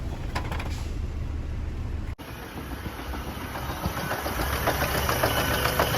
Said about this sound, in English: There it is, engine running shotgun.